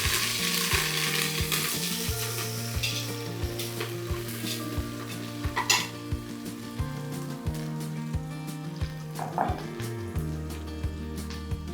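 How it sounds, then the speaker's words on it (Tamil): Coriander leaves and mint frying in oil for chicken biryani, a continuous close sizzle broken by frequent clicks and scrapes of stirring, with low background hum throughout. "நம்ம இப்படி எண்ணெயில் வந்து வதக்கும்போது தான் பிரியாணி வந்து டேஸ்ட்டு கொடுக்கும்"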